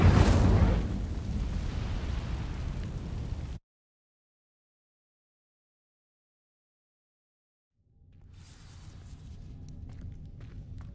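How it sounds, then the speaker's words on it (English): A fire spell in Hogwarts Legacy ignites dry vines with a loud, roaring burst of flame that holds for about three seconds, cuts off into total silence, then gives way to a low ambient rumble. "These dry vines are one spark away from becoming kindling. Incendio!"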